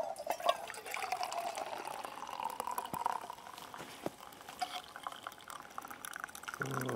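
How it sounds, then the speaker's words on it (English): Lemon and ginger tea poured from a thermos into a drinking cup outdoors, a steady close trickle of liquid that runs for several seconds with small splashes and faint drips. "Let's pour my tea in there."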